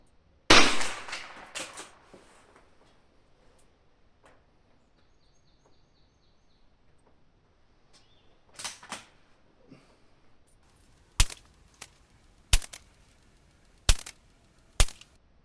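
A Chinese-made air rifle fires during a target shooting session: one loud crack at the start, then after a quiet stretch a muffled pop and four more sharp, evenly spaced shots close by.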